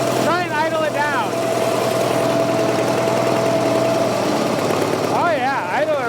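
A Fordson Super Major backhoe's diesel engine, with heavy blow-by, idles in a steady low throb throughout, while someone talks over it and a whistle-like wavering tone comes and goes.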